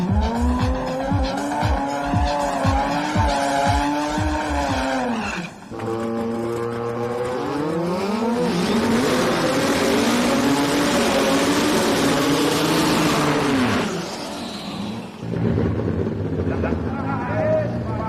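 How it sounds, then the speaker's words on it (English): Drag racing cars at a night race meet scream at high revs, with spinning tires squealing and engines climbing through gear changes. The bursts are loud and close and follow one another across the whole stretch. "It will commonly start out in first gear, momentarily throw it into second gear to increase the tire spin."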